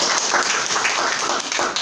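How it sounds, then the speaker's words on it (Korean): Church congregation giving a short burst of welcoming applause for a visiting member during a Sunday service announcement, steady close clapping throughout. "환영의 박수 한번 드리겠습니다."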